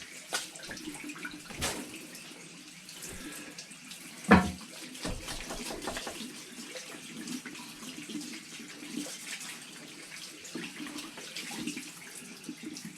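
A tap runs steadily as a Chinese-made shavette razor with a Dorco blade and a shaving brush are rinsed, the water splashing and gurgling with a sharp knock partway through.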